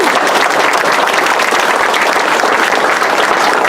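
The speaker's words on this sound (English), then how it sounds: "Please give our veterans a round of applause." A rally crowd in Alpena applauds veterans with loud, dense, steady clapping that fills the whole stretch without pause.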